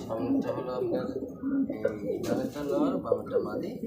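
A pair of fancy pigeons coo with soft throaty rolling calls, close by, while someone talks over them throughout.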